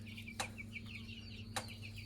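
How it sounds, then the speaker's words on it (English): Chickens cluck in a rapid, repeated run of short calls nearby, punctuated by two sharp louder squawks, over a low steady background hum. "Crazy chickens."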